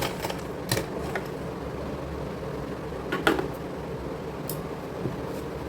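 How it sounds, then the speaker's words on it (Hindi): A sewing machine stitches a closed seam on a kids' cordset for a 6 to 7 year old girl, giving a steady close mechanical hum with a few sharp clicks and ticks scattered through it. "अब ये जो हमारा खुला वाला हिस्सा था इसको भी हम सिलाई लगा के पैक कर देंगे"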